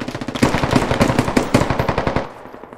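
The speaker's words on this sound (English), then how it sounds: "shot this guy point blank" Rapid automatic gunfire in a video game, a loud close burst of evenly spaced shots lasting over two seconds before tapering off, with no talking.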